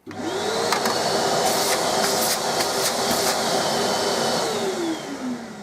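A Nilfisk Aero 26 wet/dry vacuum runs steadily after switching on, giving a loud continuous whine and rushing airflow that holds for several seconds and dips slightly in pitch near the end.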